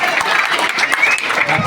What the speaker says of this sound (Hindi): एक बार जोरदार तालियां इनके लिए भी होनी चाहिए